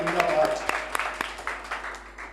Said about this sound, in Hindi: तालियां बजाकर मुबारकबाद देते हैं